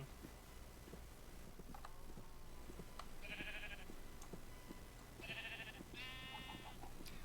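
Minecraft sheep bleat in short, bright bursts, three distinct bleats in the game world over a steady low background hum and clicking, with no talking.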